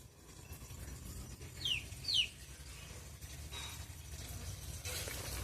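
A lone chicken chick, separated from its missing sibling, gives two short, high chirps close together midway through, faint against a low, steady outdoor background hum.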